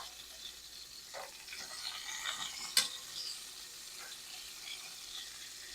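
Shrimp-stuffed meatballs fry in a pan with a soft, steady sizzle, punctuated by a few faint scrapes and one sharp clink partway through, all quiet and close with no talking.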